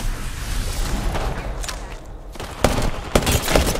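Gunfire in the battle royale game Apex Legends bursts in rapid volleys, loud and close, with sharp single shots cracking out near the end.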